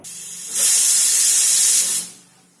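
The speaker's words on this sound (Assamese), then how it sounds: "এয়া এটা চিটি মাৰিলে এইখিনি হৈ গ'ল।" A pressure cooker on a home kitchen stove lets out a single loud, steady hissing whistle of steam that swells in, holds for about a second and a half, then fades away.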